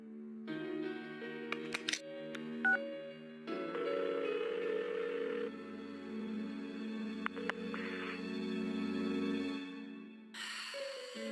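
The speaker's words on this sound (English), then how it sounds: "Give her another call." A phone call dialed in Persona 4 on PS2: steady electronic tones and ringing beeps that shift pitch in blocks, punctuated by short clicks, with no voices.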